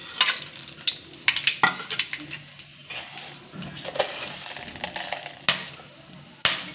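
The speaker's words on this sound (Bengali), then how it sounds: "ফোড়নটা তিরিশ সেকেন্ড ভেজে নিতে হবে" Whole spices (bay leaf, green and black cardamom, peppercorns, mace, cinnamon, cloves) frying in oil over a low gas flame for mutton korma: a steady soft sizzle broken by clinks of a stirring spoon against the pan and sharp crackles.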